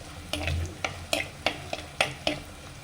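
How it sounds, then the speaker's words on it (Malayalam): Ground spice paste stirred into softened onions and green chillies in a pan for a Kerala fish curry with kudampuli: a series of sharp scraping and tapping strokes, about eight in under three seconds, over a faint low sizzle. "ഇനി നമുക്ക് അരച്ച അരപ്പ് അതിലേക്ക് ഇട്ട് കൊടുക്കാം."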